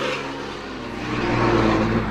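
Chevrolet Corvette C8 Z06 engine accelerating at night, a steady close broadband roar that swells and grows louder over about two seconds.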